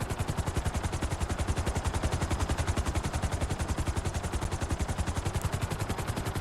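Rapid, continuous automatic-fire bursts from a GTA 5 Online video game missile barrage, loud and steady with evenly spaced pulses throughout, no talking.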